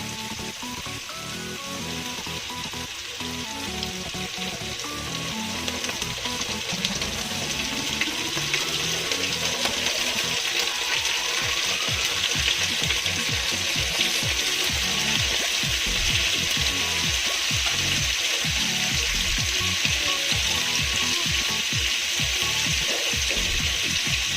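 Squid frying in a pan with oil, a steady close sizzle and crackle that hisses continuously with busy popping texture throughout, no talking.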